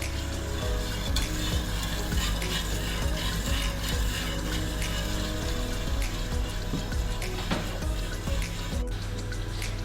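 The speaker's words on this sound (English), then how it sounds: "put the heat on high and start whisking slowly" A milk sauce for pastitsio is whisked in a pot over high heat, with steady rhythmic scraping strokes against the metal over a constant sizzling, bubbling background. No one speaks.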